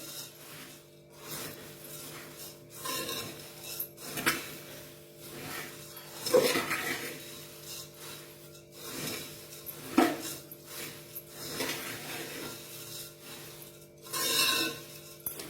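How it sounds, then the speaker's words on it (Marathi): Puffed rice bhel is tossed and stirred in a bowl at home. The result is a soft series of intermittent scraping and rustling strokes, with occasional light clinks from the spoon, heard close up and without talk. "छान मिक्स करून घ्यायचे."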